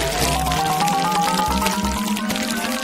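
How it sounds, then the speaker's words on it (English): Thick Nutella is poured into small log-shaped foil molds, a continuous close pour heard over background music. "Then, I will pour my favorite Nutella inside."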